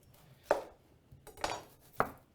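A knife slices an onion on a cutting board, three sharp separate chops spaced across a couple of seconds, close and clear in a quiet kitchen.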